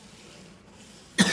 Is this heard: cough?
yes